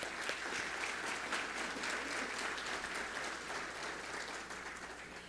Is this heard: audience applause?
yes